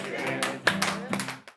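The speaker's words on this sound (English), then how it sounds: "If you're happy and you know it, clap your hands." A group claps hands in time to the children's song "If You're Happy and You Know It" during a live performance, with sung voices underneath and a few distinct, evenly spaced claps.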